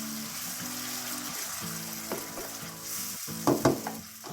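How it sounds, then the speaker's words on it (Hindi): Tamarind chutney with sugar fries in a pan, a steady close sizzle with stirring scrapes and a short clattering burst near the end, and no voices. "अब इसको मिक्स करेंगे और इसको तकरीबन 5 मिनट तक हम इसको फ्राएंगे।"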